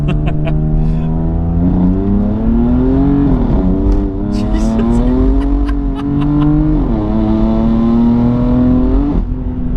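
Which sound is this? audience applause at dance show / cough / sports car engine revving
sports car engine revving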